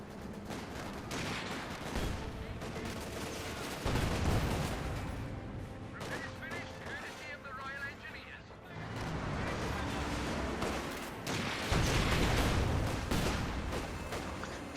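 Gunfire and explosions from the real-time strategy game Company of Heroes 2, including Vickers machine guns, come as repeated bursts and booms in a busy battle mix, with a commentator talking over much of it.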